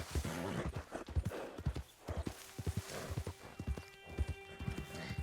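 A horse trots in Red Dead Redemption 2, its hooves clip-clopping in a steady rhythm with a whinny and game ambience and music underneath, the horse noted for poor stamina.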